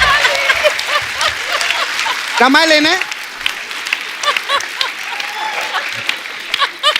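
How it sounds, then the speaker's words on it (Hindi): Studio audience applause on a comedy show, bursts of clapping and laughter mixed with someone talking and a brief sung or exclaimed phrase, lively and close. "ठोको ताली।"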